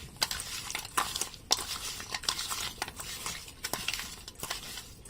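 Fish is mixed by hand with turmeric powder and salt in a metal bowl, giving irregular wet squelches, rubs and sharp metallic clinks and knocks, close up and without talking.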